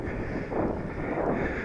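Wind buffets a misty Dartmoor hilltop in a steady, broad rumbling rush that swells slightly in two gusts, with no voices.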